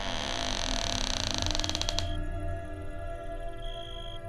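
A bedroom door creaks slowly open with a long, loud, rising groan that stutters into rapid ticks before cutting off, leaving a faint lingering tone.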